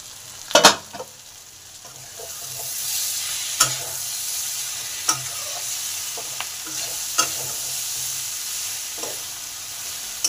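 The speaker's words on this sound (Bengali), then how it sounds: "মশলাগুলো আমার ভালোভাবে কষা হয়ে গেছে" Spices sauté in a pan for Bengali fish-head chhyanchra, a steady close sizzle with occasional sharp clicks of a spoon scraping and stirring.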